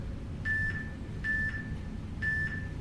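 A workout interval timer marks the end of a round with three evenly spaced electronic beep pairs, each a bright steady tone, heard over a constant low background hum in a gym.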